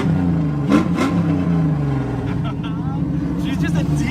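A Volvo 960 with an exhaust dump revs and rumbles loudly close by, its pitch rising and falling across a few throttle blips, while someone talks over it.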